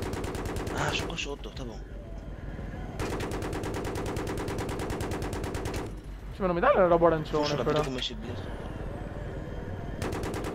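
Battlefield 3 gunfire in bursts of automatic weapon fire, loud and sustained across several stretches with brief pauses, while players talk over it.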